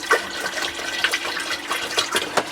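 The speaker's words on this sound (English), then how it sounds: "Half fill the bowl with warm, fresh water." Fresh, warm water runs into a marine toilet bowl as it half fills, a steady splashing gush with a few brighter bursts, fairly close and moderately loud, with no talking.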